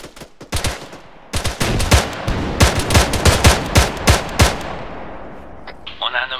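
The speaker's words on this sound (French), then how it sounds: "Écartez-vous du mur, je tire trois roquettes." Video game combat with rapid bursts of gunfire and heavy rocket blasts in loud repeating volleys, close and punchy, with a voice briefly under the shooting.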